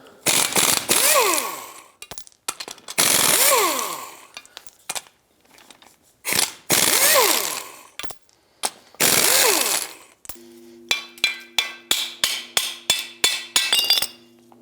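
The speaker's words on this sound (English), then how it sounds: "I'm going to unbolt the bearing with the 4 17mm bolts" A hand ratchet loosens the four 17mm bolts on a 2003-2009 Toyota 4Runner front wheel bearing, giving four long bursts of rapid metallic clicking separated by pauses, then a quicker run of short clicks and pings at the end. The sound is loud and close, with no speech.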